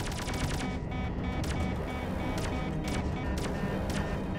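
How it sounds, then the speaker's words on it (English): Incoming missiles striking the player's spaceship in the game Rodina, a rapid series of sharp impact bursts at a fairly regular rhythm over a low rumbling engine drone. "These missiles are still coming after me."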